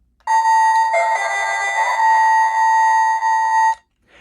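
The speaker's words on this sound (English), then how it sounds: "there we have the sound of playing the actual flute" A steady electronic tone with bright, buzzy overtones, the flute sound of a Power Rangers Dragon Dagger toy, holds for about three and a half seconds with a small pitch dip near the start.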